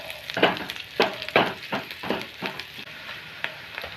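Chopped onion sautéing in a pan until turning pink, with a steady sizzle broken by repeated stirring scrapes and clinks in an uneven rhythm, close and moderately loud.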